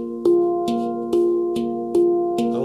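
The bottom note of a handpan is struck repeatedly with the right hand, six even ringing tones, each a sharp attack that decays slowly into the next, close and clear with no talk.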